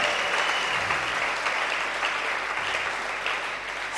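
Church congregation applauding together, a steady dense wash of clapping that holds loud and even throughout, with no talking over it.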